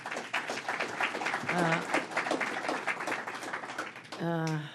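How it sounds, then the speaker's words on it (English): Audience applause at a New York government announcement on cannabis enforcement, a steady wash of clapping running under a voice that talks over it, swelling briefly louder near the end. "Let's give her a round of applause as well."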